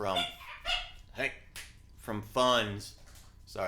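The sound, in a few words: dog barking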